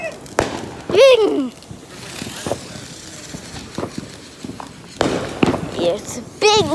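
Outdoor fireworks popping and booming in irregular bursts, a couple of whistling rockets among them, while a family chatters and exclaims close by.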